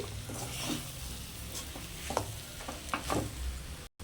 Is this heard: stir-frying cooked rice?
yes